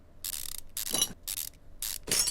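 A ratchet clicks in repeated bursts while bolts come off car parts in Car Mechanic Simulator 2015, four or five short mechanical runs separated by brief pauses, close and moderately loud.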